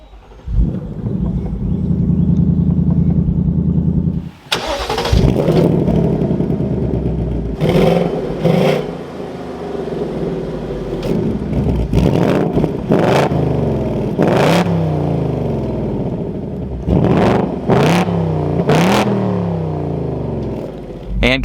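A 2024 Ford Mustang GT Premium convertible's V8 idles with a low burble, then fires sharper and is blipped through a series of loud, repeated revs that rise and fall under occasional talk.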